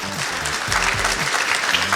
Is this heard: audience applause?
yes